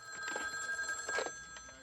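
A telephone ringing, a steady electronic trill with sustained high tones, faint and somewhat distant, with no talk over it.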